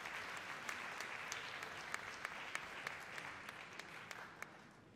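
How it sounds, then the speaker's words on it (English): An audience at a Future Policy Award ceremony applauds steadily as a speaker takes the stage, a faint, even wash of many hands clapping with a few sharper claps standing out. "give a hand of applause to Jakob von Uexkull"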